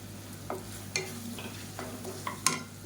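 Tomatoes and spices for kurma sautéing in a pan: a low, steady sizzle punctuated by several sharp clinks and scrapes of a spoon stirring against the metal, close up, with no voices.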